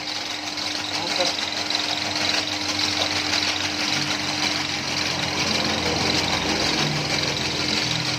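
A motorized noodle-making machine, converted from a manual one, runs with a steady mechanical whir and rattling hum while people talk over it.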